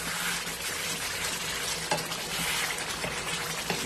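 Beef frying hard in oil over a high flame for a Pakistani-style stew, a dense, steady sizzle and crackle close by with a few sharper pops and no voices.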